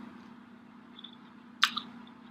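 A single bite into a Chinese-food dumpling, one sharp wet squish followed by a smaller second squelch, close and quiet over a low room hum.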